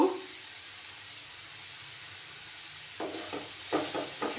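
Poppy seeds being stirred into red spinach in a pan over a lowered gas flame: a soft, steady sizzle fills the first part, then a run of close scraping and stirring strokes comes in near the end.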